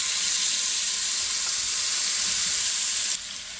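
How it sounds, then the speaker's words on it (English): Shrimp marinated with salt and chili powder frying in a pan, giving a steady, loud, close hiss of sizzling oil that runs throughout and softens slightly near the end, with no talking. "So now we're going to let this fry for a bit."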